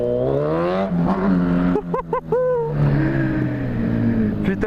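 A motorcycle still being run in lifts its front wheel, the engine revving in a loud, sustained harmonic drone with rising pitch. Excited voices shout over it in the middle.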